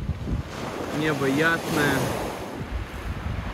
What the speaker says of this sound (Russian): дует легкий, еле заметный ветерок, море в целом спокойное, едва волнуется